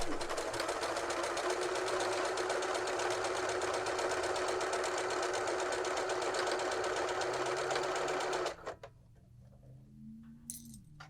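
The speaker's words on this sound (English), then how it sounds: "let's keep sewing." A sewing machine stitches knit fabric for a circle skirt, a steady close whirring hum for most of the stretch that then stops abruptly, followed by quieter handling sounds.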